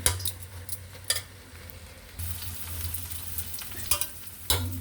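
Onions frying in a pan at home, a steady soft sizzle running under occasional scrapes and stirs of a spoon, with brief clinks against the pot.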